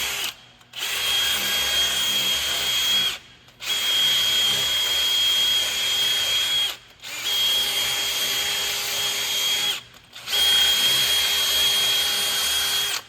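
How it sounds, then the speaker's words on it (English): A power tool fitted with a purple abrasive disc cleans car wheel studs during a front brake rotor job, whining loudly in four sustained bursts with brief pauses between them. "I now followed up with this style of purple abrasive disc, and it's for cleaning studs."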